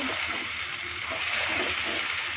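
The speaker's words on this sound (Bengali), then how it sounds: "একটু হালকা পানি দিয়ে" Water splashes steadily into a hot frying pan of spiced chicken mince, giving a continuous close sizzle and splatter with no break across the short moment.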